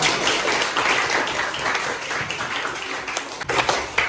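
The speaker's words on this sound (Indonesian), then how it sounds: "Tepuk tangan untuk kalian" Students in an Islamic religious education class clap together for classmates, a steady dense patter of many hands filling the room with no voices over it.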